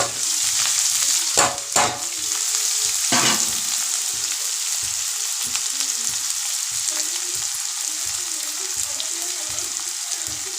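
Sliced onions sauté in a pan for a village-style gongura dal, a continuous close hiss with a few louder stirring clatters early on, then steady sizzling without talk.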